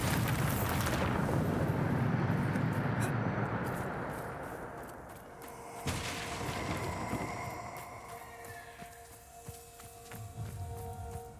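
A Bombarda blasting curse in Hogwarts Legacy sets off a loud rumbling explosion that fades out over several seconds, followed by a second, smaller burst and lingering debris.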